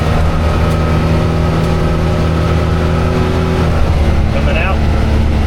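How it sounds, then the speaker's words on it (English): Engine of a 2025 Can-Am Maverick X3 Turbo Max side-by-side, a loud continuous drone that stays steady throughout with the throttle easing off and back on, while a person talks over it. "Off the gas, on the gas, we're back on it."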